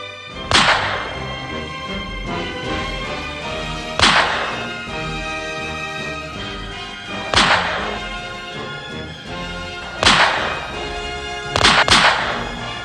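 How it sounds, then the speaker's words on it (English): Five sharp gunshots ring out at irregular intervals, each followed by a long echoing decay, the last two close together. "The thunderous response of gunfire in reply to his gunshot echoes across the country."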